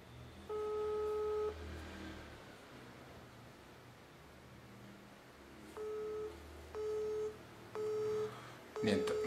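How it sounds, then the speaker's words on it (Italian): A phone line rings during an outgoing call: a long tone, a pause, then three shorter evenly spaced ringback tones over faint background hiss, with no one answering. "Squilla."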